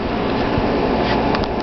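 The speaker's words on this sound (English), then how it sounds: "My air conditioner blew the paper back." An indoor air conditioner running with a steady, even, broadband whoosh, loud and constant throughout the short stretch.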